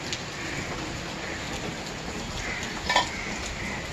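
Steady monsoon rain falls on succulents, terrarium plants and moss, a dense even patter with a brief louder drip near the end.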